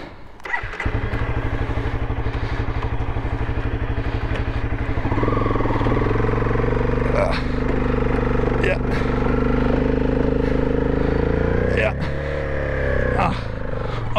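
A motorcycle engine runs loud and close while riding in the desert, steady with pulsing rhythm, then rises in pitch as it revs and shifts, with brief clunks near gear changes and a voice talking over parts of it.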